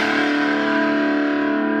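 Sustained distorted electric guitar chord from a Schecter Diamond Series PT solid body ringing through an overdriven amp, thick and buzzing, held steadily with no talking.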